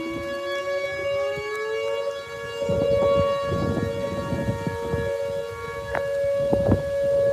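A tornado warning siren wails steadily during a flood and tornado outbreak, nearby and loud. The long sustained tone rises slightly and holds, over a rumble of wind and ambient noise.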